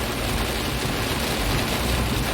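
Heavy rain pours down at Palembang airport, a dense, loud, continuous hiss of downpour with no breaks.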